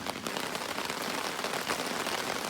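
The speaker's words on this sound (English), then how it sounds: "It's raining harder." Heavy rain pours down steadily at Rain Lake, a dense, constant hiss of drops drumming on surfaces with no pauses throughout.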